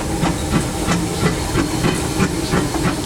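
Steam hisses steadily inside the cab of the Disneyland Railroad steam locomotive, a loud close wash with rhythmic chuffing pulses roughly every third of a second, and no talking.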